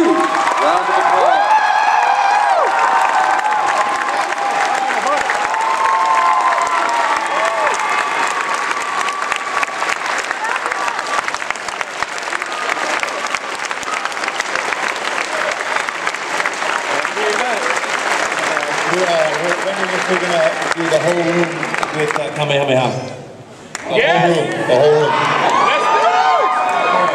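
A large convention audience at an anime event applauds and cheers for Dragon Ball Z voice actors, loud sustained clapping with whoops and crowd noise, briefly dipping near the end before surging again.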